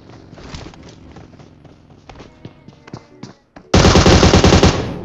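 Gunfire in PUBG Mobile on the Miramar desert map: footsteps and scattered shots lead into a loud, close burst of rapid automatic fire with sharp repeated cracks, after which a player shouts.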